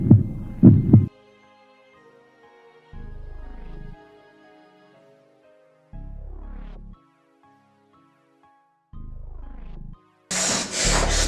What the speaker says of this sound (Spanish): Es el latido de su espantoso corazón.